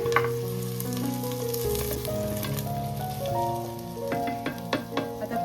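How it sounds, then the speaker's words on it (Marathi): Chopped onion sizzles and crackles loudly in a hot pan, with spatula stirring and scraping across it and scattered sharp pops near the end. "कांदा टाकायचा आणि ढवळायचा."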